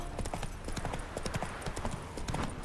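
Roach, Geralt's horse in The Witcher 3, walks with quick, even hoofbeats clip-clopping nearby, a short continuous run of clops over a soft ambient bed, no talking.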